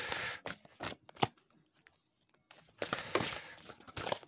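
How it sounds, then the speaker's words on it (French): A deck of playing cards being shuffled and cut, with bursts of riffling and crisp card flicks, a brief pause in the middle, then more shuffling, close and fairly quiet. "on y va avec Alice, on va déjà faire une coupe"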